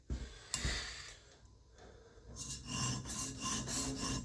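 A tanto-style EDC knife blade is drawn across a sharpener in rasping, scraping strokes, an isolated stroke at first and then a rapid run of repeated close strokes, with no talking.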